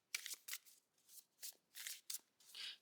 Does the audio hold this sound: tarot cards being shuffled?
yes